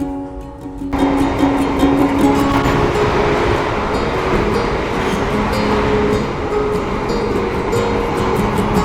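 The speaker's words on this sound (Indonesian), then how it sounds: "kereta api Malioboro Express telah tiba di stasiun Kutoarjo" The Malioboro Express train pulls into Kutoarjo station with a loud, continuous rumble of wheels and carriages, broad and steady at close range.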